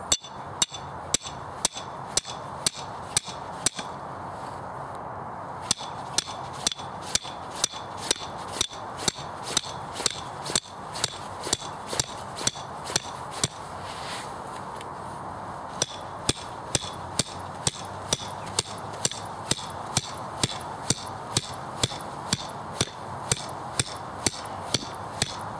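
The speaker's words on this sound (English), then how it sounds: "Knock it in with your lump hammer." A lump hammer strikes an earth anchor driver to knock an anchor into the ground, giving sharp metallic blows at a steady rhythm, roughly two per second, with a short pause near the middle.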